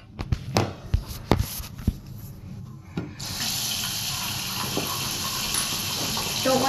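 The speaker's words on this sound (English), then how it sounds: "let me just wash my hands real fast" Tap water runs into a sink for hand washing, a steady gushing stream that follows a few clunks and footsteps, close by.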